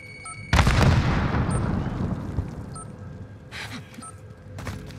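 A grenade detonates in the Warzone video game with a loud, sudden boom, followed by a long rumbling decay and scattered distant gunfire.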